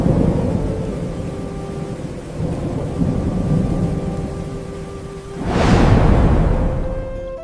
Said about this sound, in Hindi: ये खौफनाक बारिश और ओले पूरी रात बिना रुके गिरते रहे।